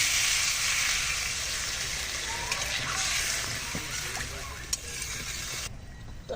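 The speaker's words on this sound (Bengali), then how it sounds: "তরকারির সাথে আমি জল দিয়ে দিচ্ছি" Water poured into a pan of frying fish curry with drumsticks and potato sets off a steady broadband sizzle and splashing, fairly close, running continuously before cutting off near the end.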